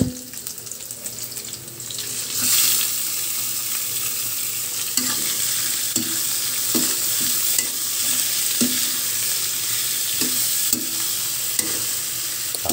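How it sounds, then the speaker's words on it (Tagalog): Squid sautéing for adobo in a pan sizzles steadily, with repeated scrapes and knocks of stirring over a constant hiss, close and fairly loud. "Bali niluluto na natin tong pusit"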